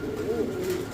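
A fancy domestic pigeon coos in a low, throaty, rolling call that swells and dips over a second, close by against a faint background hum.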